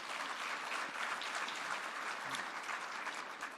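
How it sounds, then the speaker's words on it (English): Sustained applause from a large audience at a tribute event, steady and loud throughout with dense clapping and no pauses. "Give yourselves a round of applause."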